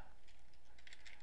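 Soft, faint clicking of a computer keyboard being typed on, a few quick keystrokes over a steady background hiss, no talking.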